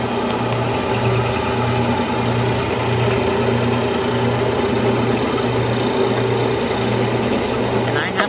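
A cheap lapidary machine cuts a Mexican fire opal with a loud, steady motor whine and a rhythmic pulsing hum. A voice talks faintly underneath.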